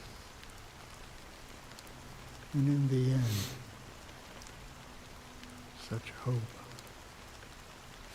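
Fine drizzle of black rain in the game Honkai: Star Rail, a steady soft hiss of rain running throughout, with a voice talking briefly over it.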